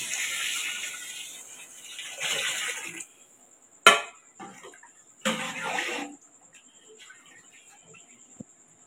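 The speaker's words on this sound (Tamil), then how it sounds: "இப்போ 2 லிட்டர் தண்ணி சேர்த்துக்கலாம்." Water is poured into a pot of mutton biryani, a rushing splash lasting a few seconds, followed by a brief clatter of a utensil and another shorter pour.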